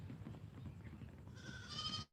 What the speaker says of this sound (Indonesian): Nih mbenya nih, nih mbenya di sini